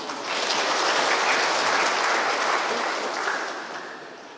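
Congregation applauding during an Easter church service in Yahukimo, a broad wash of many hands clapping that rises quickly, holds steady and loud, then tapers off gradually near the end.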